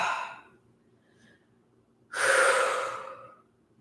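A strong breathy exhale during an exercise class, preceded by a softer breath, a long forceful whoosh of air lasting about a second, close and clear with no talk over it.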